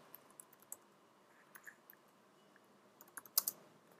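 Scattered keystrokes tap on a computer keyboard, soft and irregular, with a brief quick burst of clicks near the end and no talking.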